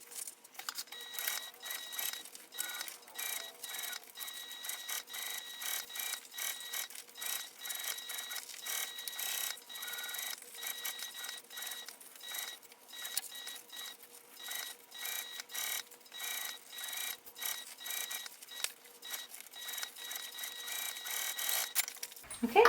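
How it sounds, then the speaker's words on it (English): A sewing machine stitches around the perimeter of a fabric bag with a gusset, a steady rapid mechanical whirring that runs with brief stops and restarts, close and moderately quiet. "I'm going to sew around the perimeter bag using the seam allowance given"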